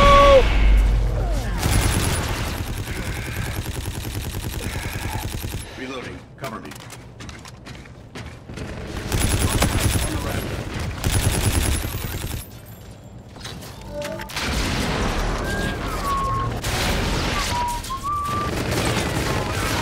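Gunfire and explosions in the video game Call of Duty: Infinite Warfare, loud bursts of automatic fire and booms that come and go in waves, with whistling tones and voices talking over the combat.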